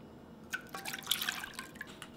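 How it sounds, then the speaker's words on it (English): Milk poured into hot melted butter, a short faint liquid pour with light dripping and splashing, heard close in a quiet kitchen. "I'm going to add 1 cup milk"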